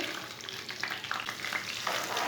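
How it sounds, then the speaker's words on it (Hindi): Chopped onion frying with whole cumin and coriander seeds in a pan for black chickpeas, giving a steady close sizzle with light crackles and the scrape of stirring, no voices. "प्याज को ब्राउन कर लेंगे।"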